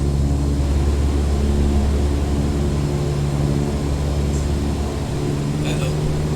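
A steady, droning propeller aircraft engine in Microsoft Flight Simulator 2020, loud and constant with a low tonal hum throughout and no shift in pitch.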